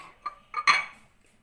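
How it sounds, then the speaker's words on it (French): A knife chops a garlic clove coarsely on a board, giving three or four short, crisp knocks at an uneven pace, close and fairly quiet. "je suis en train de découper ma gousse d'ail grossièrement"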